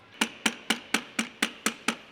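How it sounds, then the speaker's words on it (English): Eight sharp metallic hammer blows struck at a steady, quick rhythm, hammering out a CV joint clip on a Toyota Corolla, close and clear with no talking. "You got to then somehow hammer that out."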